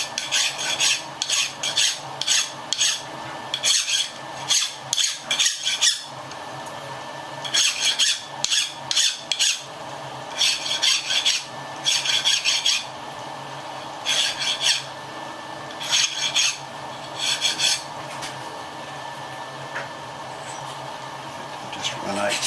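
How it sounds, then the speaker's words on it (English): A hand file rasps along the edge of a metal lathe tool holder in a shop, coming in about a dozen distinct bursts of quick back-and-forth strokes, close and fairly loud, with short pauses between them. "So I'll just deburr that side so that when we put it in the vise it's not sitting on a burr."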